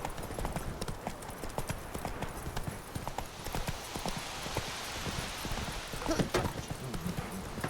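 Roach, Geralt's horse in The Witcher 3, trots along with steady, quick clip-clop hoofbeats under an ambient game soundscape, fairly faint but continuous, with a brief whinny-like note near the end.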